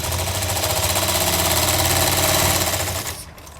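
Sewing machine running straight stitching through folded fabric for a sleeve border with double piping, a loud, close, rapid mechanical rattle at steady speed that slows and stops near the end.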